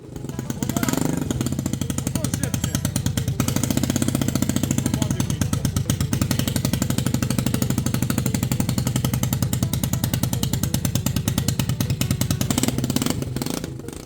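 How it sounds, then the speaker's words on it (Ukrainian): Honda XR125L motorcycle engine idling right after an engine rebuild, a loud, steady rapid single-cylinder putter close by, running continuously throughout. "Мотоцикл завівся реально з першого разу"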